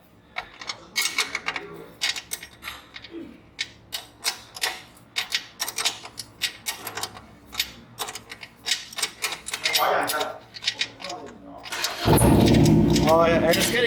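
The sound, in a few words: motorcycles starting up in Harley shop service department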